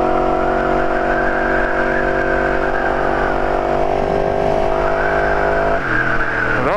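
A 2018 Yamaha R1 sport bike idles and rolls slowly into a gas station, its engine giving a loud, steady, close drone that drops in pitch near the end as it slows, with no talk.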